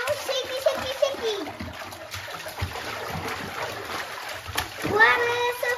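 Water splashes and sloshes as a child plays in a bubble bath with a bath bomb, with irregular splashes and drips throughout under children talking, and a louder splash near the end.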